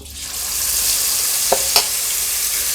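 Fish marinade hitting hot oil in a pan, giving a steady close sizzle and crackle with a couple of brief sharp spatters partway through.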